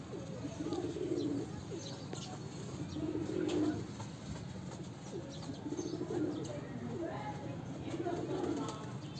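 Domestic pigeons coo on a rooftop in slow, low, throaty bursts that recur every few seconds over a steady background hum, with faint chirps from other birds.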